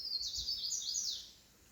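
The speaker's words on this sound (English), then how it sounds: "As we could hear the birds," Birds chirping outdoors in a steady, moderately loud stream of high twittering calls that fades slightly toward the end, with no speech.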